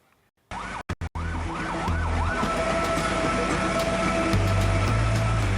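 Fire engines heading to a burning shop on a main road in Cibinong, Bogor, West Java wail with rising and falling sirens and blaring horns over road traffic, loud and close, with no talk.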